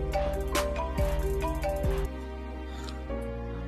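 A phone rings with a melodic tonal ringtone, repeating notes played steadily and fairly loud for several seconds with no voices over it.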